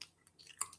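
Faint close chewing of a soft chocolate chip cookie, a few quiet moist crunches and bites in a brief moment with no talking.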